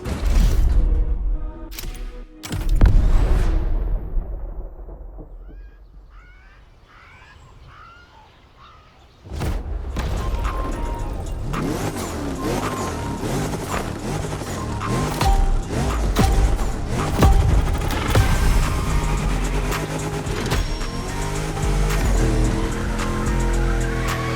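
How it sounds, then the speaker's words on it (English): A DeLorean built as a drift car in The Crew Motorfest, its engine roaring loud and steady through the second half after a quieter lull, with tyre and mechanical noise mixed into the game audio. "Are you telling me they built a drift machine out of a DeLorean?"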